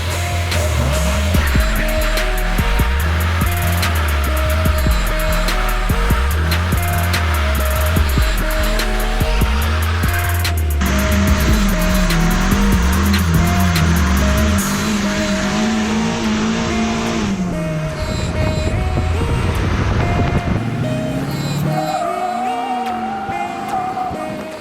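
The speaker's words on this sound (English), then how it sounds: "gotta go out with a burnout, man. It's a drift car." A JDM drift car does a burnout, its engine revving hard in steady rising and falling pulses, then holding high revs, loud and close, with tire squeal and a skidding hiss throughout.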